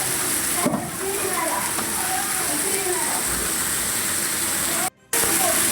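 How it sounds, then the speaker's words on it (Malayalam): Rainwater pours down from a burst pipe inside a hospital surgery block, a loud, continuous rushing and splashing that fills the clip, with faint voices underneath. "ഇത്തരത്തിൽ മഴവെള്ളം ഒലിച്ച് ഇറങ്ങുന്നത് താഴേക്ക്"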